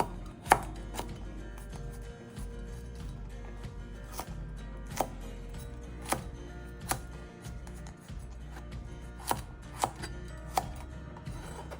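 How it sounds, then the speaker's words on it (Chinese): A knife chops cabbage stems on a cutting board, giving a steady series of crisp, close knocks, some louder than others, with no talking. "我们来将叶梗切细了"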